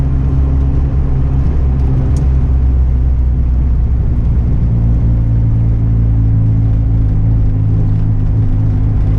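Turbocharged Ford Escort GT making a drag strip run at OSW, a loud, unbroken low engine drone and road rumble heard from inside the car throughout.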